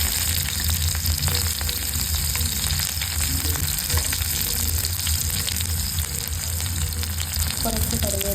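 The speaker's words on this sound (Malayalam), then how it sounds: "എണ്ണ ചൂടായിട്ടുണ്ട്. അതിലേക്ക് കുറച്ച് കടുക് ഇട്ട് കൊടുക്കാം." Mustard seeds crackle and sizzle loudly in hot oil, a dense continuous frying hiss close up with faint popping throughout and no speech.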